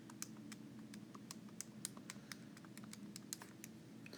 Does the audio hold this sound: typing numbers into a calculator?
yes